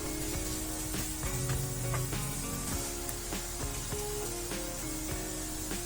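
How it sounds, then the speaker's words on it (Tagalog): Onion and garlic sauté in hot oil for a tomato-based sauce, a steady close sizzling hiss with scattered light pops and stirring clinks throughout. "igisa lang natin yung ating aromatics for at least 1 minute"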